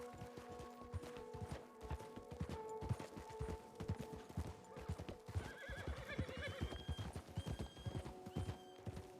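Horse hooves clip-clop in a quick, steady rhythm close by while a horse whinnies with drawn-out tonal neighs over the hoofbeats, and a second neigh rises toward the end.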